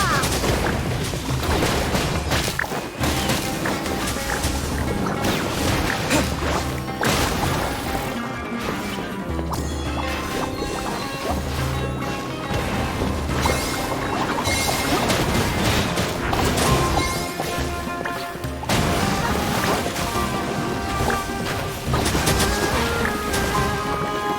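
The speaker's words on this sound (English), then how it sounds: "Pyro-1, release the explosion!" Explosions and crashing impacts in the video game Fabulous Fungus Frenzy, a long barrage of loud booms, smashes and rapid bursts layered over game music with almost no letup.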